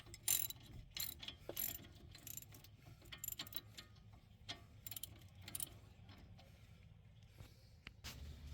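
Bolts are fastened by hand while brake pads are changed on a car, giving close, quiet ratcheting clicks and metallic rattles in irregular bursts that continue throughout.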